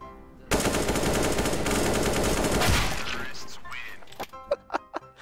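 Rapid gunfire from a Desert Eagle pistol in a shooting video game, a dense continuous burst of shots for about two seconds that fades into a few separate sharp cracks.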